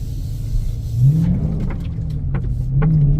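A 2023 Dodge Scat Pack widebody engine rumbles steadily from inside the car at night, its low drone swelling as it accelerates around the one-second mark and again near the end, with no talking.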